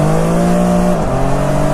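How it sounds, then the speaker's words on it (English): A car revving hard and spinning its tires on a cold winter day, heard as a loud, steady, close engine drone that dips slightly in pitch partway through, with no voices. "that thing's like spinning tires at 50 miles an hour"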